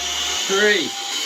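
A Charmani electric air duster runs at full power, producing a short, fairly loud whirring blast that spins up and winds down within about half a second over a steady background hiss.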